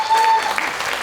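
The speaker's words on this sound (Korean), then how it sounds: "맞으면 박수 한번 부탁드립니다." Applause from the audience at a Democratic Party of Korea joint campaign rally in Jeju, a steady, dense wash of clapping filling the whole short moment.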